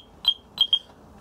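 A Yale HSA6400 burglar alarm panel beeps during its exit countdown, giving three short, high, clear beeps indoors: one alone, then after a pause a quick pair, with no talking.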